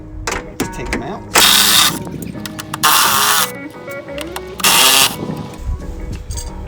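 A ratchet with a 10 mm socket removes the headlight housing bolts on a Jeep JL, giving three loud bursts of rapid clicking close by, with someone talking between them.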